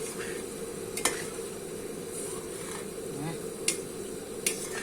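Food sizzles steadily in a pan during stir-frying with chopped parsley, a constant fry hiss punctuated by a few sharp utensil clinks against the pan, close and moderately quiet.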